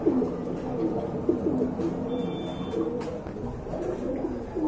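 Indian female pigeons offered for sale coo in a repeated, rhythmic series of soft, low calls, fairly close, with a steady background hum and no talk.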